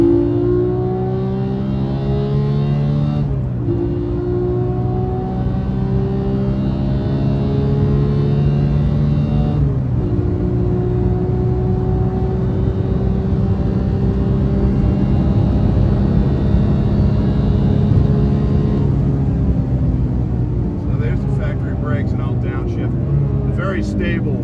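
Manual 2018 Porsche 991.2 GT3 engine revving hard from around 6,100 rpm toward redline, a loud sustained mechanical howl with rising harmonics and a couple of brief dips as gears change, heard from inside the cabin.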